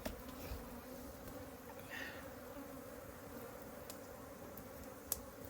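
Bees buzz around a beehive in a faint, continuous hum, with a few individual insects passing close by over a steady background drone and no voices.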